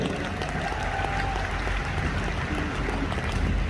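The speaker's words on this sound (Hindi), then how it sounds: "बंसल जी के लिए जोरदार तालियां बजा दी।" Audience applauding for Rajeev Bansal at a doctors' gathering in Haridwar, a dense, steady wash of many hands clapping continuously at moderate distance with no talk over it.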